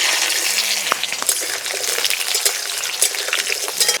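Potatoes sizzle in hot oil tempered with dried red chillies and black cumin, a steady hissing fry with faint crackles and spattering, close and moderately loud with no talking.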